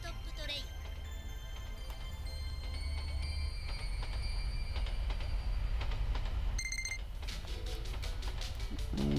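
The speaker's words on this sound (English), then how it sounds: "A train." A train in the video game Full Metal Sister Marilu rumbles loudly and steadily throughout, with mechanical clatter, sustained ringing tones, and a sharp squealing burst toward the end.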